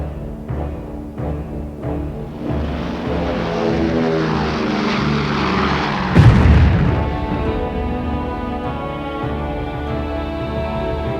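A low-flying World War II bomber roaring overhead, its propeller engines droning loud and steady, swelling to a sharp boom midway before the drone continues.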